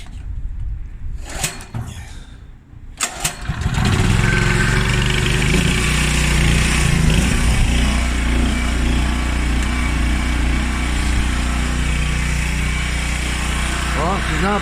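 A small gasoline engine on a washing machine repair setup starts after a few pulls and then runs on choke, with a loud, steady, close drone that continues to the end while someone talks over it.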